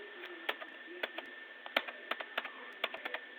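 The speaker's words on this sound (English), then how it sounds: "So you just click on enter" Keys clatter on a computer keyboard in quick, uneven taps, about a dozen crisp clicks spread over a few seconds, fairly quiet and close, with no voices.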